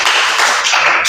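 Classroom applause in a school lesson, a brief, loud burst of many hands clapping together at close range, with no talking over it.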